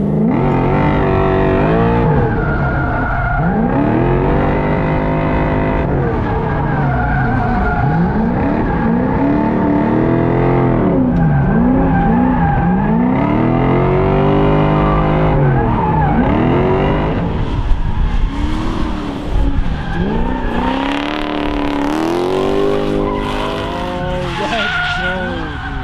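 A fully built V8 drift truck drifts at an event against 240SXs, its engine roaring and revving steadily while the tires squeal for the whole run. The sound is loud and continuous, with the engine surging near the end.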